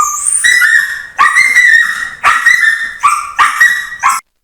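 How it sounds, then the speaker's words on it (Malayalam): A dog caught between the bars of a house gate barks repeatedly in loud, close, high-pitched bursts of roughly five or six yelps, each clear and alone with no talk. "ഗേറ്റിന്റെ കമ്പികൾക്കിടയിൽ കുടുങ്ങിയ നായയെ രക്ഷപ്പെടുത്തി."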